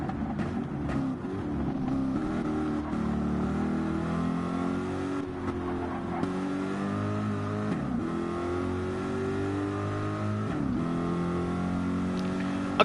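Race car engine in a racing video game on the Trial Mountain circuit, revving steadily and loud with rising and falling pitch sweeps as gears shift, running continuously throughout without talk.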